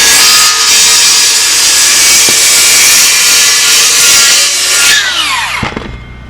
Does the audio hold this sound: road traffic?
no